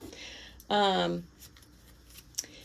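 Oracle cards shuffled by hand in one short riffle-like burst, close and crisp, surrounded by quiet room tone.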